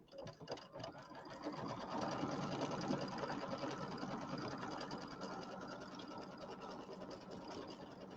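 An embroidery machine stitches down quilt batting in a 6x10 hoop, giving off a steady fast mechanical chatter that starts after a brief pause and runs on evenly and fairly quietly, with no talk.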